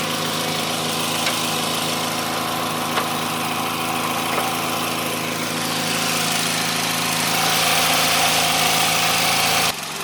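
A car engine idles steadily with a constant low rumble and mechanical hum, swelling slightly louder near the end before stopping abruptly.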